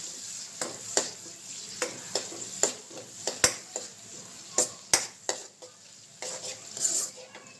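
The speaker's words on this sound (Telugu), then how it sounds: "ఆనియన్స్ వేసేసుకొని ఫ్రై చేసేసుకుందాం" Sliced onions fry in hot oil in a kadai, a constant close sizzle punctuated by frequent crisp clacks and scrapes of a spatula stirring against the metal, with no voices.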